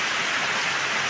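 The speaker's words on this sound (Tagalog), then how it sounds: "sobra pong ulan" Heavy rain pours down steadily and loudly, a dense unbroken wash of drops close by with no voices over it.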